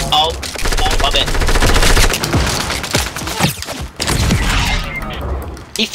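Rapid enemy-team gunfire in a Fortnite Battle Royale squads match, with close, loud bursts of automatic shots layered over game noise and brief overlapping voices.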